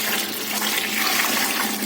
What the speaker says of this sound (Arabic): هننزل كده ب3 لتر ميه